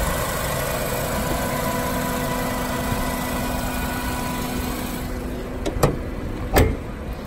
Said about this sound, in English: Engine is running silent.